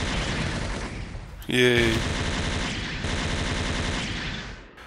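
A Gundam Double X in SD Gundam Online fires a rapid stream of game shots, loud and continuous with a bright burst partway through, while a player talks over the barrage.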